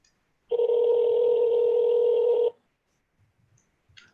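A telephone ring tone sounds on an unanswered outgoing call, a single steady two-second electronic tone, clear and close, followed by silence and faint clicks.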